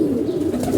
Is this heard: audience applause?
no